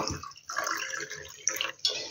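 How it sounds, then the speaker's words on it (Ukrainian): Water is poured into a jar of salted brine for fermenting cabbage leaves, a continuous splashing trickle with a couple of brighter drip-like splashes, close by. "І тепер доливаю до повної баночки воду."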